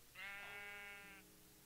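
A sheep bleats in Minecraft, a single wavering call lasting about a second, clear and close with no talk over it.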